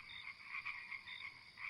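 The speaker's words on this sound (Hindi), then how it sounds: "बाहर मेंढकों की आवाज गूंजने लगती है" Frogs croaking outdoors after the rain has stopped, a steady chorus of repeated calls pulsing at a moderate distance with no voices over it.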